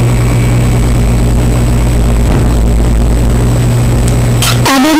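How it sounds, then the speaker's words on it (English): A loud helicopter roars close overhead with a steady, throbbing rotor drone that cuts off abruptly near the end. "I'm sorry about that helicopter"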